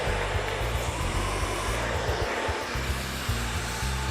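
A hair dryer blows steadily on hair during a smooth straight blow-out, a loud continuous whirring drone with slight wavering as it moves, and no talk.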